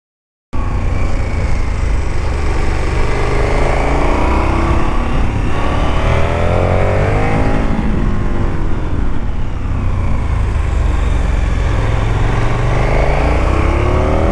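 A KTM 1290 Super Adventure motorcycle rides continuously on a road in Sweden or Norway, its engine droning loud and steady with shifting pitch and strong wind rush throughout.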